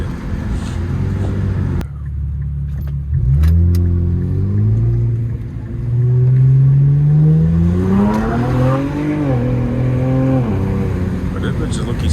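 An Infiniti Q50 fitted with new intakes and a downpipe accelerates at night, its engine note climbing and dropping through the gears, loud and close from inside the car while people talk.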